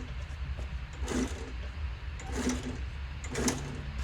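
Sewing machine stitching bag binding through a binding attachment, a soft low whirring hum with three brief bursts of faster stitching, quiet and close.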